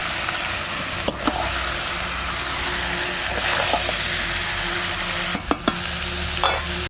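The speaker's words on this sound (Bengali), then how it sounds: "মাংস প্রায় কষানো হয়ে গেছে" Mutton curry sizzles and fries steadily in a pan, with a constant hiss throughout and a few light clinks of stirring now and then, close by and with no voices.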